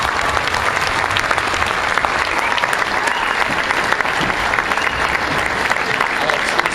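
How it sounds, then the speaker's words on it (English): Audience at a middle school 6th grade winter band concert claps steadily and loudly throughout, a dense sustained round of applause with no pauses. "Can you give them another round of applause?"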